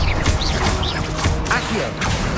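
Rapid Confringo blasting spells in Hogwarts Legacy combat strike with crashing impacts and whooshes, several loud hits spread over about two seconds amid busy game effects.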